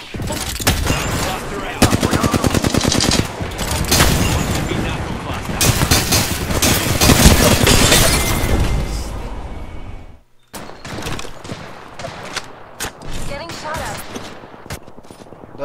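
Sustained Apex Legends gunfire: dense, close automatic bursts and single shots pile up loudly, break off in a sudden gap, then resume in sparser cracks.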